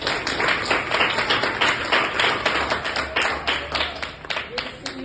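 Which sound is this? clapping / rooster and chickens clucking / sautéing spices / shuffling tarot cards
clapping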